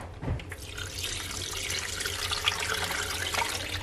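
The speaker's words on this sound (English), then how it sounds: "I'm going to use filtered water on this." Filtered water pours steadily into a pot in a home kitchen while dog food is being made for a miniature schnauzer, a continuous close splashing flow with no talk.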